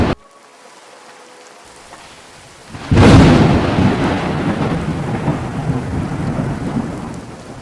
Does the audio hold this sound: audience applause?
no